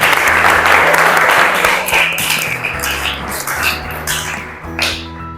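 A classroom audience of students gives lively applause after a group presentation in an Islamic jurisprudence class, loud dense clapping at first that thins over several seconds, with a steady musical tone underneath.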